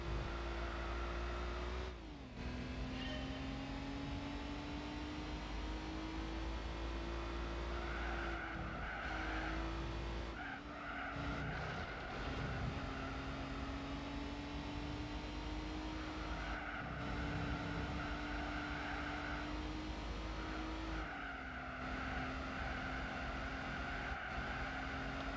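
A front-wheel-drive Alfa races in Gran Turismo 4, its engine droning steadily with gear-change dips. Repeated tire squeals and skids come through as the car slides through corners. No voices are heard.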